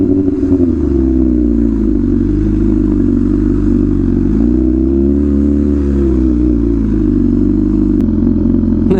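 An MV Agusta Rush motorcycle fitted with an aftermarket exhaust runs loud and close, its deep throbbing engine note holding steady, then dipping and rising slightly as the revs change over several seconds, with no talk over it.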